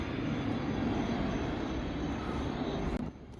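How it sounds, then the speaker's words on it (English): Airplanes come in to land overhead, a steady, broad roar of jet engines that holds throughout and then drops off suddenly near the end, with no talking. "Sometimes I just like to come outside and watch these planes coming in."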